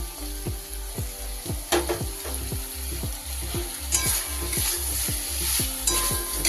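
Fried potatoes being stirred into prawn masala in a pan, with rhythmic scraping strokes of a spoon roughly twice a second over a continuous close sizzle and no talking.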